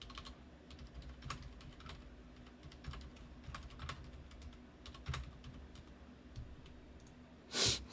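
Someone types quickly on a computer keyboard. A steady stream of fairly close clicks runs for several seconds, ends in a brief louder burst and a sigh, with no speech.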